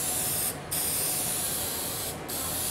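A steady hiss of spray paint from an aerosol can onto diamond plate metal, close and loud, broken by two brief pauses.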